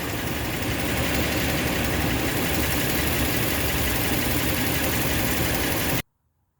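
A rebuilt 5.7 Hemi V8 in a 2011 Ram 2500 pickup runs steadily at idle, a loud, close, continuous rumble that cuts off abruptly into silence near the end.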